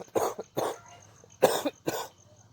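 Four harsh, chesty coughs come in two pairs, close and fairly loud with short gaps between, from someone with a cold brought on by flour mill dust.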